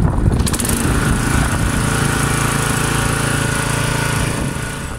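A Forest Master FM6DD wood chipper's engine roars steadily at full throttle, loud and close, with a constant mechanical drone and no voices.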